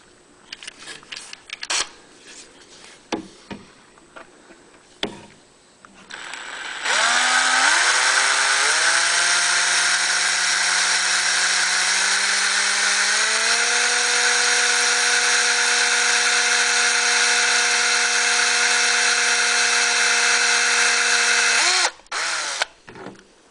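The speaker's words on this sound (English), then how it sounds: "take a 7/64 drill bit and drill a hole for each of the mounting tabs" After some clicks and handling noises, an electric drill with a 7/64 bit whirs steadily for about fifteen seconds drilling mounting holes, its pitch stepping up as it speeds, then cuts off.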